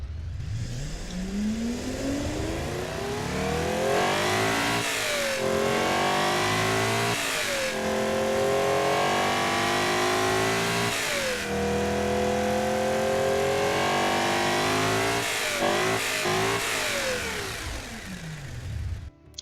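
A car engine fitted with cast headers revs up repeatedly, rising and falling in pitch with a throaty, loud exhaust note, idling briefly between pulls.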